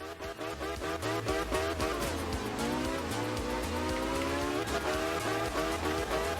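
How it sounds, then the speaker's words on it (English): Group B rally car in a racing video game, its engine droning loud and steady with rising and falling pitch through gear changes and tire squeal, heard alone throughout. "Man, you hear that engine?"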